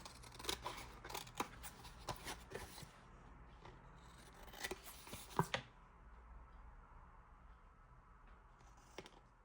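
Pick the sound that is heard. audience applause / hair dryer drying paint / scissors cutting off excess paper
scissors cutting off excess paper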